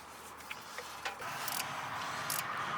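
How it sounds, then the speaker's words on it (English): Ratchet or wrench loosening the distributor hold-down bolt on a 1968 Dodge C500 truck engine, with a few faint ticks and clicks followed by a steady low rasp. "Loosening up a bolt."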